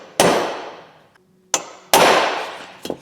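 A hammer strikes a fine-tipped punch on rivet spots of an Evo 8 being rebuilt, making three sharp, ringing metallic clangs with lingering decay, heard close and alone.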